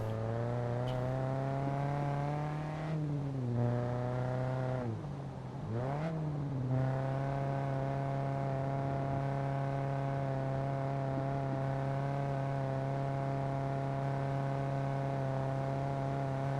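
Steady engine drone of a car driving in the survival video game SCUM, a constant harmonic hum that dips and bends briefly as it shifts pace, then holds even and loud to the end.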